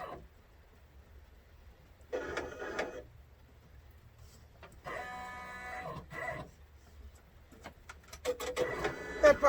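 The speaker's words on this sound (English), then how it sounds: "I have really get this machine set up to finish this Santa bag" An industrial sewing machine in a custom sewing shop runs in short bursts while finishing a Santa bag, mechanical whirring spurts separated by pauses, with some clattering near the end.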